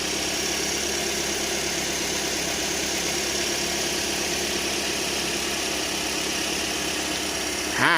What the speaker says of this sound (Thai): ฟังเสียงเครื่องยนต์กันนิดนึงครับ